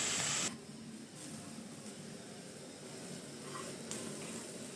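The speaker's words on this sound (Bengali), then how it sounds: "ভালো করে এটা ভেজে নেব।" Vegetables and dalia fry in a pan with a steady, close sizzling hiss that holds evenly throughout.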